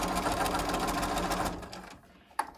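A sewing machine stitches a quarter-inch seam on quilt pieces, its steady motor whir running close and loud for about a second and a half before stopping, followed by quieter handling noises.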